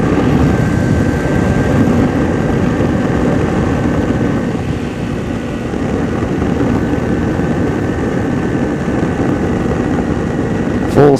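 A small airplane's engine drones steadily from inside the cabin during stall practice, a loud continuous rumble with little change throughout.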